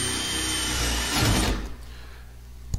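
A power drill fitted with a hole dozer hole saw cuts through a door for a lock installation, a steady loud grinding whir that builds, then cuts off abruptly, leaving a quiet tail with one sharp knock near the end.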